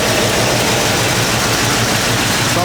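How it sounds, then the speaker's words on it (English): A 1980 Chevy Caprice box Chevy idles steadily while warming up, a loud, continuous low rumble with an even rhythmic throb and no voices. "so I got the box Chevy running"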